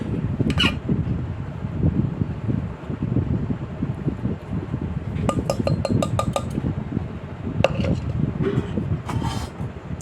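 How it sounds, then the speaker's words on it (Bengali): Rice is served onto plates for a home meal, with several light clinks of dishes and utensils scattered over a steady background hum of a fan or wind. "এখন দেখো ভাত বেড়ে নিচ্ছি"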